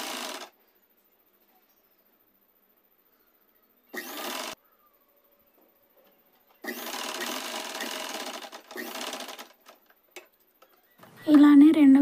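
An electric sewing machine stitches the lining and main fabric of a dress made from an old saree, running in short separate bursts between stretches of silence, with a voice briefly at the end.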